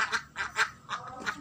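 Egg-laying ducks kept in a backyard pen quack in several short, fairly close bursts, about five calls spaced unevenly across a second and a half, with no talk over them.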